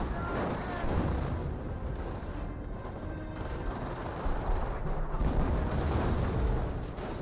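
Dense MG42 machine gun fire and battle noise rattle continuously in the Company of Heroes video game, loud and busy throughout with distant booms layered in.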